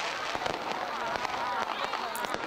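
Fireworks bursting in the night during a Dutch New Year's Eve celebration, a dense wash of crackling pops and thuds layered over continuous noise, heard from a distance.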